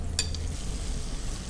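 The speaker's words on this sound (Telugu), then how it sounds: "ఇప్పుడు డీప్ ఫ్రై చేయాలి ఒక్కొక్క పీసెస్." Chicken pieces for honey sesame chicken deep frying in hot oil, a steady broadband sizzle throughout with a couple of brief clinks or stirring sounds near the start, close and fairly loud, no voices.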